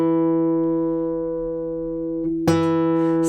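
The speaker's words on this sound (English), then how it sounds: "if I play the same note on a thinner string" A single sustained plucked string note rings steadily with rich overtones, then a fresh pluck on a thinner string sounds the same pitch with a sharp bright attack near the end.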